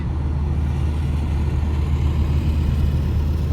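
Ford Focus engine after a remap runs steadily at a low, even idle-like drone, the throttle taps not clearly standing out, with no talking over it.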